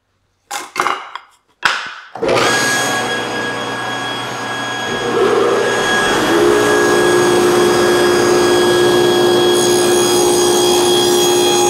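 A table saw cuts a drawer lock joint in wood, beginning with a few knocks and clatters before the motor spins up into a loud, steady whine that holds with a rising, sustained cutting roar close by.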